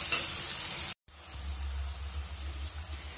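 Sliced onions with salt sautéing and being stirred in a hot pan for a Kerala tomato and okra curry, a steady close sizzle with a brief cut, and no one talking.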